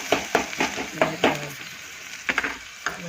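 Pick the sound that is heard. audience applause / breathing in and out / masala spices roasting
masala spices roasting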